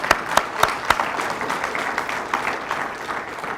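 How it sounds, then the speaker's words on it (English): Banquet audience applauding, a dense steady wash of clapping with a few sharp, louder claps standing out near the start, lasting a few seconds at moderate level. "Let's give another round of applause."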